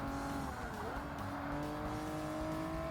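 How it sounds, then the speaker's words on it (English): A race car braking hard in Forza Motorsport, a game, with steady loud engine drone and a rising tire squeal through the run, continuous with no talk over it. "I've just slammed on the brakes there by accident"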